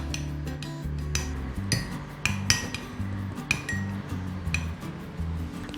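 Repeated clinks of a spoon against a ceramic mug as pasta sauce is spooned into the bottom for microwave mug pasta, light taps scattered through the clip over a low background hum.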